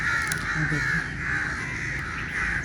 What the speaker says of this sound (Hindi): सिर्फ एक कौवा है